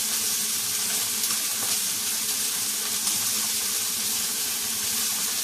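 Chili and garlic sizzle steadily in a hot pan alongside a steak, a constant loud frying hiss up close with no talking.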